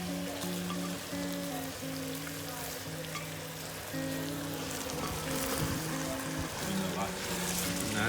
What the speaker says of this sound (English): You're just stirring it a bit to get it a bit brown.